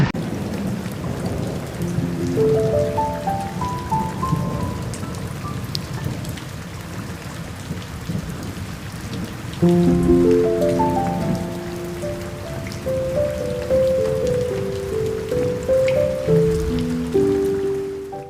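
Steady rain falls during the rainy season amid flooding in Parañaque, a constant close hiss of drops on surfaces that runs the whole time beneath a melodic tune.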